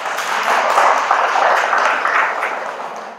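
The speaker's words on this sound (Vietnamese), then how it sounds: "cho quý vị này một tràng pháo tay đi các vị" A classroom audience applauds a few students called to stand during an end-of-year exam review session: a steady, even wash of many hands clapping, moderately loud and sustained throughout, with no one speaking over it.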